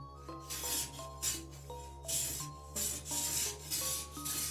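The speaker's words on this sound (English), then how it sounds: "Now I'm just gonna sharpen one section of the sword" A sword blade is rubbed and rasped in repeated strokes during sharpening, each stroke a scratchy swish, over a steady low hum, without talk.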